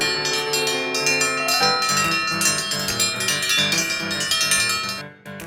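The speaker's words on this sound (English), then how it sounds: "when you hear the ranch dinner bell, man, it's time to eat" A ranch dinner bell at a guest ranch rings continuously with steady, repeated metallic strikes, loud and close, ringing on for about five seconds with no talking.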